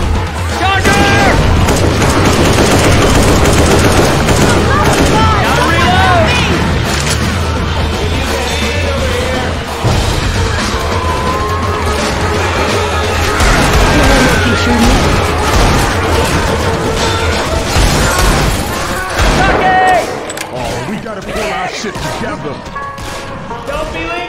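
Heavy, rapid gunfire blasting at a Charger in the Left 4 Dead 2 game, loud and nearly continuous, with crashes and booms layered under shouting voices.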